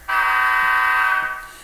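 A Nathan K3LA three-chime air horn from a model train sound decoder blows one steady chord for about a second and a half, then fades, heard alone.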